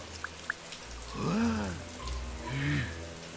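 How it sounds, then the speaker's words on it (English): Shower water running in the video game Manual Samuel, a steady rain-like patter with two small drips early on and a few short musical swells over it. "Sam tries to take a shower."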